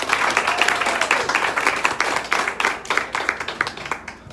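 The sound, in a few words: audience applauding at book signing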